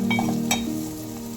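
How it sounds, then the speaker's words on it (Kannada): Onions frying in a pan on the stove for a North Karnataka putani chutney, a steady close sizzle with a brief stirring scrape midway and a faint tonal hum underneath. "ಚೆನ್ನಾಗಿ ಈರುಳ್ಳಿ ಫ್ರೈ ಆಗೋವರೆಗೂ ಫ್ರೈ ಮಾಡೋಣ"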